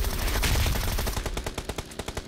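Automatic gunfire in a PUBG match rattles out in loud, rapid bursts, first dense and blurred and then in distinct evenly spaced shots.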